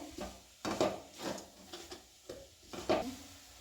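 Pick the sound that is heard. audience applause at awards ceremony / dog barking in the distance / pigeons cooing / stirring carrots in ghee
stirring carrots in ghee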